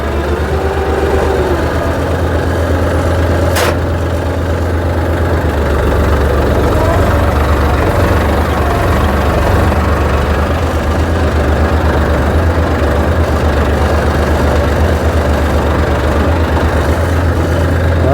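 A steady low engine idles throughout, a constant rumble with a faint whine, close by and unchanging.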